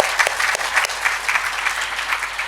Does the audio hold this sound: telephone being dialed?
no